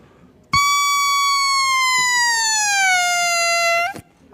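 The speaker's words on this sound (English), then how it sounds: "when I blow across them, they make a very beautiful sound." An oboe reed blown alone without the instrument gives one loud, buzzy, squawking tone held for about three seconds. Its pitch sags slightly before it cuts off.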